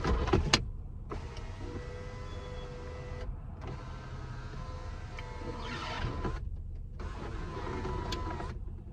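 A car sunroof motor whirs open electrically in several separate runs, each a steady mechanical hum broken by brief pauses and clicks, heard close and alone.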